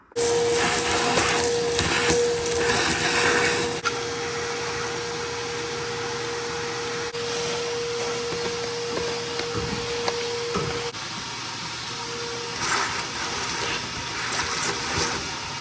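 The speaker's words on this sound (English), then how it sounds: "really get in there and vacuum everything out" A vacuum cleaner runs steadily while cleaning the engine bay of a BMW 335i, a loud continuous whine with a few shifts in pitch as the nozzle moves, no talking.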